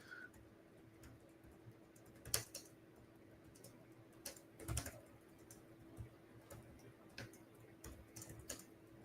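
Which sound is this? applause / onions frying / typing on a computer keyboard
typing on a computer keyboard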